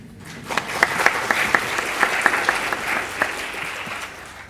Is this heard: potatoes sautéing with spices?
no